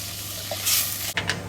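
Onions frying in a pan for tomato sauce give a steady, close sizzle with a brief clatter and stir near the end, no talking.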